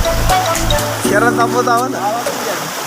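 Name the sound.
water gushing out of the ground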